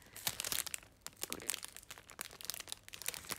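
An already opened plastic snack bag is handled near the microphone, giving quick, sharp crinkles and rustles in irregular bursts, fairly quiet and with no speech.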